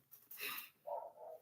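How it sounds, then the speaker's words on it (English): A dog barks once, faint and muffled through the walls of a neighbouring apartment, followed by a softer whining yelp. "And you can hear the dog barking."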